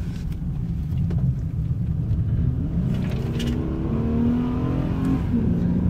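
A truck accelerating hard, its engine rumble deep and steady with a rising tone as the revs climb, close and loud, with no talk.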